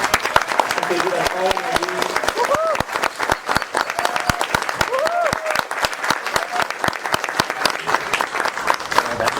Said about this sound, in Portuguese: Eu quero que vocês recebam com uma enorme salva de palmas a professora Paula Marisa